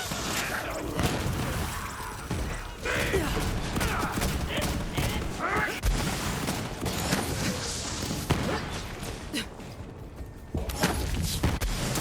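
Gunfire rings out in Borderlands 3 with an Amara build, dense rapid shots and impacts that clatter and thud continuously through a busy game mix, with a voice talking over parts of it.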